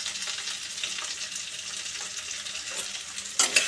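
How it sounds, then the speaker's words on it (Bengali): Potato and pumpkin chunks fry in a pan with turmeric and salt, giving a steady, close sizzling hiss with soft stirring scrapes and a brief louder scrape near the end. "এই হলুদ আর নুনটা ভালো করে নাড়াচাড়া করে মিডিয়াম আঁচে আলু কুমড়োটাকে ভাজা ভাজা করতে হবে"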